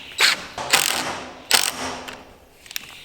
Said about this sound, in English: Now with an extra long bit, you can drive in the screw.